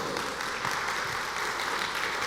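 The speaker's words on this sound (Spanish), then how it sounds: "Le vas a dar un aplauso al Señor, dáselo fuerte." Sustained applause fills a church service, a steady wash of many hands clapping at moderate volume.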